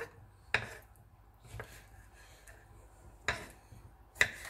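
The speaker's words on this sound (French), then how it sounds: "J'ai encore 5 ou 6 tomates ici à découper." A knife chops tomatoes on a cutting board during salad preparation: four sharp, separated knocks at irregular intervals, close and fairly quiet, with low room noise between them.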